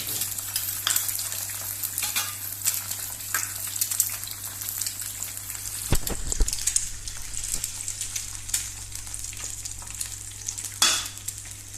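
Eggs frying in oil in a pan give a steady, crackling sizzle throughout, with a couple of louder pops or spatter bursts partway through and near the end, heard up close with no talk.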